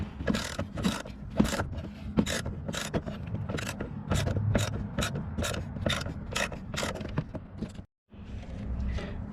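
Hand ratchet loosening size 13 bolts on the brake master cylinder of a 2005 Ford Focus, heard close up as a long series of steady rhythmic clicks, about a dozen strokes with a brief pause near the end.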